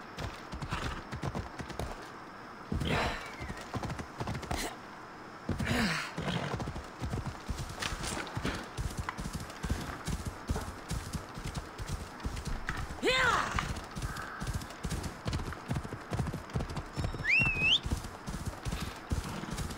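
Phobos, a horse in Assassin's Creed Odyssey, gallops with steady, rhythmic clip-clopping hoofbeats. A sharp neigh rings out near the end, and a voice is heard now and then over the hooves.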